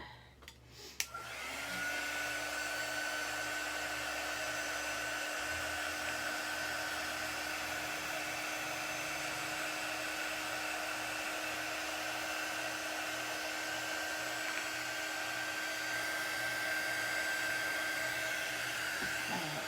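A handheld hair dryer dries a Chalk Couture chalk paste craft project. A click starts a steady, loud whirring hum with a high whine, and it runs without a break until the end.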